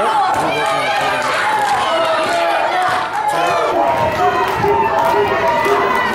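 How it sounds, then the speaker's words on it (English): A wrestling crowd at a live match roars in a loud, continuous wash of cheering and shouting, with a voice talking over the din throughout. "This crowd is cheering hard, cheering loud for an Omega victory."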